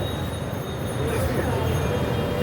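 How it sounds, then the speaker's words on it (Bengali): A metro rail train passing nearby: a continuous low rumble with a faint high whine, holding steady through the short stretch. "এটা হলো মেট্রো রেল"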